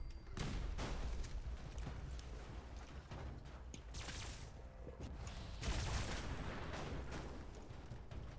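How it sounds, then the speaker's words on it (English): Alien blaster energy pistol fired rapidly in Fallout 76 against small green creatures, a dense, continuous stream of sharp zapping shots with mechanical clatter and game noise throughout, loud and busy with no pauses. "I can show you how powerful this alien blaster against those smaller Greenies"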